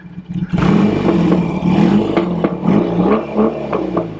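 A 1975 John Player Norton 850 motorcycle engine revs and roars up close, rising and falling in pitch with sharp throttle blips and rattly mechanical clatter throughout.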